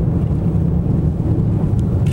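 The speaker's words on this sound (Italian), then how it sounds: "qua c'è il vento da una direzione opposta" Strong wind roars and buffets a microphone during a storm chase near Campo, Colorado, amid gustnadoes and outflow boundaries, a loud steady rumble filling the whole stretch with no voices.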